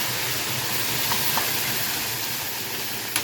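Red lentil dal poured into hot tempering oil, a loud, dense, steady sizzle and hiss with a few sharp pops of splattering, close by and with no talk.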